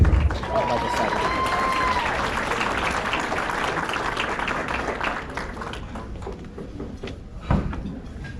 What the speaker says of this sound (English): big round of applause for Rain coming up